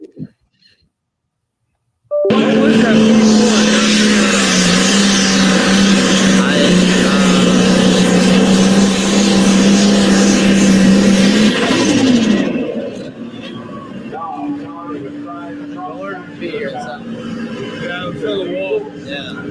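A 10,000-pound pro stock class pulling tractor roars at a Friday night tractor pull, a loud sustained engine howl that bursts in after a brief quiet, holds for about ten seconds with a falling pitch, then drops to a lower rumble.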